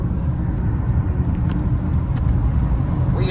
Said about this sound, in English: We in the Honda on our way to Mom's house